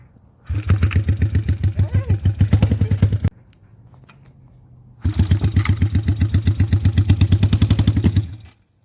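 A 1979 Yamaha XS400 motorcycle engine cranks with rapid rhythmic chugging for a few seconds, pauses, then cranks again in another long chugging burst, loud and close.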